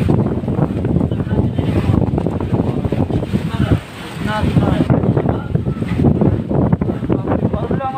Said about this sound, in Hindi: देख सकते हो कितना जोर से हवा दे रहा है गाइस